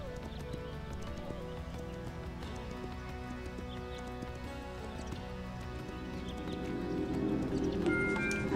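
Horses at a stable in Kingdom Two Crowns give faint clip-clop hoofbeats and a soft neigh over a quiet musical game background, low and distant throughout.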